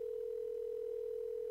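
A telephone dial tone during a radio call-in holds as one steady, unbroken hum at moderate level, alone with no voices.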